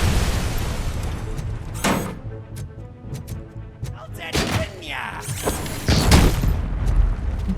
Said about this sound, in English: I don't know why an air tank exploded.